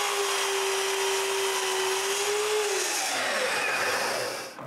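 A power saw makes a 45-degree cut through wood for a water cabinet, running as a loud steady whine that drops in pitch as the blade bites in, then winds down near the end.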